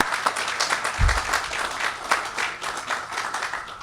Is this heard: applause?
yes